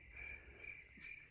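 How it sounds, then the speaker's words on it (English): Crickets chirp in steady pulsed bursts, a faint high trill repeating about every half second against quiet background, with no voices. "crickets."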